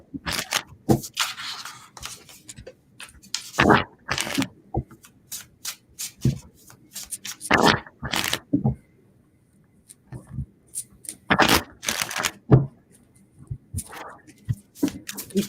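A deck of cards is shuffled in repeated bursts of riffling and scraping, close and fairly loud, with short quiet gaps and occasional speech between shuffles.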